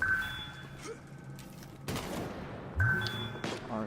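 Several sharp weapon blasts ring out in Destiny's Niobe Labs puzzle, two strong bursts with bright metallic pings between them over a low game hum, with a brief voice nearby.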